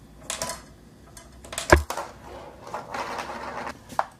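A marble strikes a homemade snare drum emptied of rice on a marble machine, giving one sharp, close crack among scattered lighter clicks and rattles.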